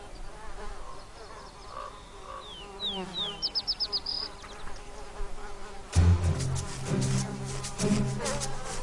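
Flies buzz in short whining passes around grass-covered carrion a bear uses as a pillow, over a soft outdoor background, then a louder rustling, clattering stretch takes over near the end.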